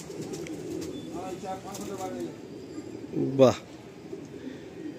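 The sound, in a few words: pigeons cooing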